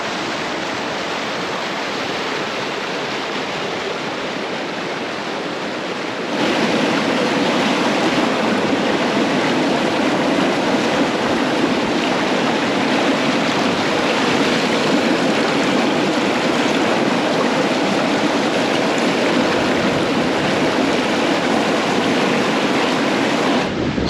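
River at the bottom of the Grand Canyon rushes in a steady, broad roar of moving water, close and continuous, growing noticeably louder partway through with no voices.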